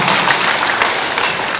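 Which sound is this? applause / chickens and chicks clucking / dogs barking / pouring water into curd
applause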